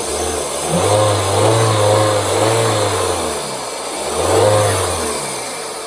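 A 2006 Toyota Altis 1.8E sedan engine is revved up several times from idle, each rise swelling loud and close, then easing back before the next throttle blip.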